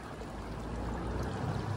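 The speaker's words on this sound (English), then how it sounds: "I love the sound of water." Water flowing at a park, a steady close rushing stream with a dense even wash of sound, no voices.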